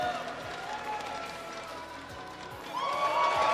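Audience at an esports grand final in a large arena, with cheering and applause swelling loudly near the end over a continuous crowd roar.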